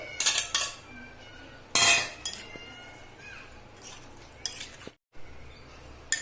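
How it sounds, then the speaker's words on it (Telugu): A spoon clinks and scrapes against a bowl while a seasoning mixture is stirred into Korean potato noodles, sharp metallic knocks at irregular intervals with quieter scraping between them. "పొటాటో నూడిల్స్లో వేసుకొని బాగా కలుపుకోవాలండి"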